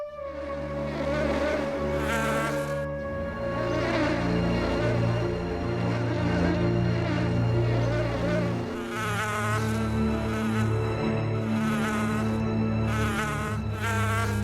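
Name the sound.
bees buzzing in a cartoon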